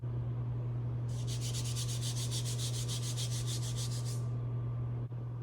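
Steady rhythmic scraping of a hand rubbing back and forth over rough paint overspray on a Chevrolet C10 truck in a garage, about a dozen quick strokes over a low constant hum.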